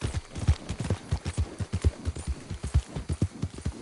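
Horse hooves galloping in the Red Dead Redemption 2 video game, a fast, steady clip-clop of close, crisp hoofbeats with no talking.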